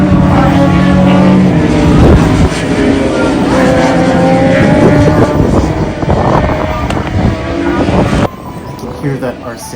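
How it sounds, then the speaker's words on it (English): Yamaha R6 racing motorcycle engine screaming close behind during a track race, a loud high-revving whine over heavy wind rush, with a rider talking over it. "Hear that R6 right behind me. It has a very distinct motor"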